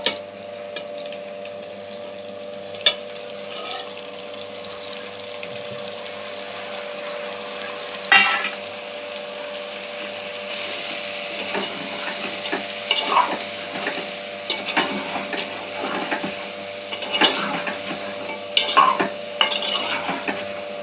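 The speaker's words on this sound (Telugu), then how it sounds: "ఈ దోసకాయ టమాటా కూడా వేసేద్దాం. దోసకాయ టమాటా వేసేసుకుందాం." Cucumber and tomato stir-frying with chicken for a curry, heard as a soft background sizzle broken by intermittent scraping and stirring clatters of a spoon in the pan.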